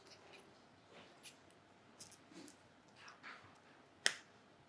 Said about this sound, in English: That's a very particular Patek Philippe sound when you close the dust cover.